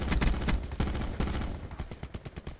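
A loud, close automatic weapon burst in the Black Ops 4 Blackout battle royale game, rapid repeated shots rattling for over a second and trailing into quicker, fading pops.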